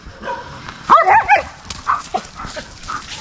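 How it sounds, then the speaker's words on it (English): Dogs play fighting at a cenote campsite, yipping and barking in short excited bursts with a few higher whimpering yelps, close and fairly loud over light outdoor background. "She's holding off this other dog to stop the play fighting long enough for Moxie to find a place to poop."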